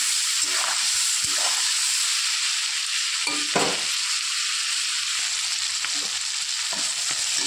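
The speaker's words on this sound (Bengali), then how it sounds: "হালকা করে আমি ভেজে নিয়েছি" Prawns fry lightly in hot oil, a constant close sizzling hiss with occasional scraping and clinking from stirring in the pan.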